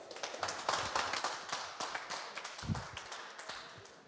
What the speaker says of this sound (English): Give a warm applause to Mr.